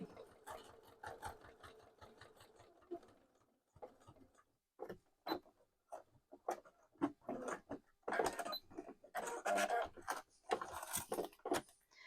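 A sewing machine stitches a wallet just beside a chalk line, its close, rapid needle clatter running in bursts with short pauses between.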